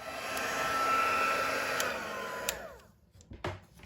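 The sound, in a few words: heat tool setting embossing powder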